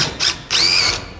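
A power drill drives a screw into a wood post during cargo lift assembly, two short whirring bursts with a high whine, the second longer and louder, close up with no talk.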